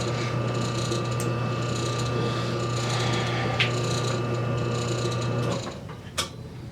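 A Delta Ammco metal shaper cutting a notch makes a loud, steady mechanical clatter with a rhythmic ratcheting hum, running continuously close by until it winds down near the end, followed by a couple of light metallic knocks.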